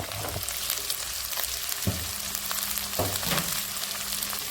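Curry leaves and chillies crackle in hot oil in a pan for ragi semiya upma, a dense, close sizzle broken by a few short clicks and scrapes of a spoon.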